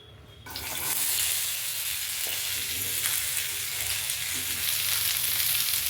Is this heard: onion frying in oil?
yes